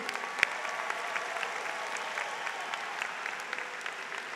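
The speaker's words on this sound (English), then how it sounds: "Let's give them another round of applause." A crowd applauds steadily at a commencement ceremony, with dense clapping filling the space at a moderate distance.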